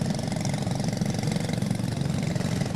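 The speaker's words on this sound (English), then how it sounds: "Engines are fired." Racing kart engines at a 2023 T4 Nations Cup Mini event idle together in a steady, dense buzzing drone, close and continuous throughout.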